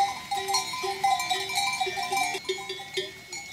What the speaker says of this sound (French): les moutons descendus hier des alpages profitent de l'herbe abondante